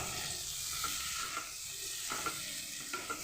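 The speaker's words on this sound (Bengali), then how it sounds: "কাঁচা মটরশুঁটি ওটার মধ্যেই আমি কষিয়ে নেব সেদ্ধ হয়ে যাবে মাছের মাথার টুকরোগুলো দিয়ে দেবো" Fish head pieces and raw peas fry in a pan while being stirred, a constant sizzle broken by soft periodic scraping strokes of the spatula, with no talking.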